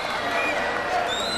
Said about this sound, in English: Spanky getting encouragement from the crowd.